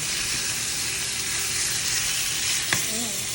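A sous vide steak sizzles loudly and evenly in a hot pan just after being flipped, a dense close frying hiss with a brief clatter near the end.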